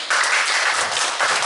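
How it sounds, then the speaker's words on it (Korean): A church congregation at an afternoon worship service breaks into applause, a short burst of clapping that rises sharply, holds briefly, then swells again near the end. "우리 박수 한번"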